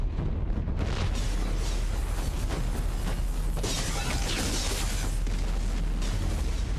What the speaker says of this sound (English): And who doesn't love a good explosion?